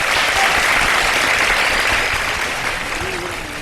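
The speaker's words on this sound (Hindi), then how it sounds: "लाला के लिए एक बार फिर बहुत सारी तालियां होनी चाहिए भाई।" A studio audience on a Ramadan sehri television show applauds steadily and loudly, a dense wash of clapping that fades slightly toward the end.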